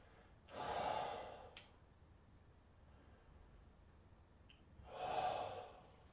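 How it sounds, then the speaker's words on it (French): During a yoga triangle pose, two long, breathy exhalations come close to the microphone about four seconds apart, with quiet room hiss in between. "Écoutez la respiration, allons-y."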